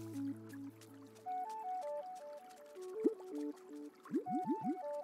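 Steady flowing river water from the video game Carto runs as a soft, continuous wash beneath a melodic tune of stepped notes and a few quick rising chirps.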